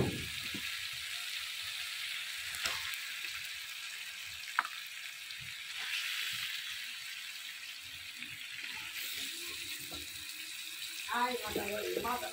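Meat frying in a pot of cooked-down spiced masala on a village stove, a steady hiss and sizzle throughout with a few clinks and stirring scrapes near the end.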